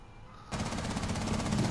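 Video game gunfire: after a quiet start, rapid repeated automatic shots burst in and continue densely to the end, loud and close.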